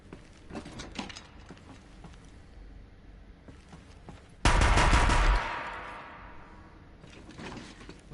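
The Deathbringer gun from Horizon Zero Dawn fires one loud, sustained burst of about a second and then rings out. Scattered quieter combat sounds come before and after it.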